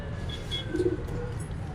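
Pigeons coo softly in a low, rounded burst near the middle of a short stretch, heard close but faint over a steady background hum, with no talking.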